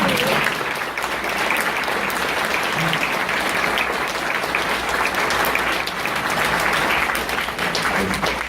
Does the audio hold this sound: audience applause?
yes